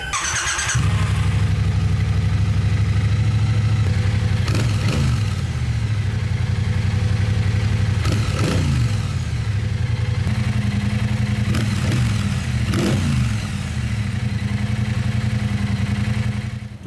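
A Triumph Bobber 1200 parallel-twin motorcycle engine runs steadily at close range, a loud continuous low rumble with several brief blips of revving and squeaks spread through it.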